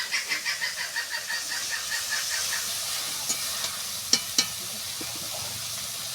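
Ground tomato paste with salt and turmeric frying in oil, a continuous soft sizzle with a rapid bubbling patter at first, then a few clicks and two sharper knocks of a utensil against the pan.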